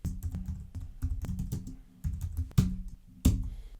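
Fingers typing VBA code on a computer keyboard in quick, uneven bursts of close key clicks, a few heavier keystrokes near the end, with no talking.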